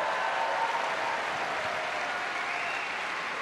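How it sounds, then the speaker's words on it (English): Studio audience applause during a talk-show interview, a steady dense wash of clapping at moderate level filling the whole span without any voices. "that's worth applause"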